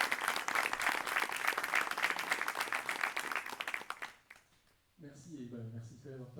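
Audience applause at a cheque presentation ceremony, a thick burst of clapping that fades out after about four seconds, followed by a pause and then someone speaking.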